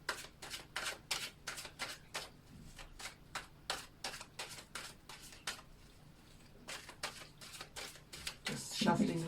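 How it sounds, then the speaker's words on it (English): Tarot cards are shuffled in quick rhythmic riffles, a series of crisp flapping bursts at close range, with a short pause midway before a final louder shuffle. "Just shuffling a little bit"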